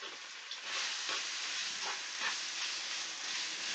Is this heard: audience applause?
no